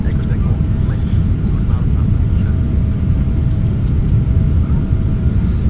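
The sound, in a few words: Boeing 777 climbing after takeoff, from a flight simulator game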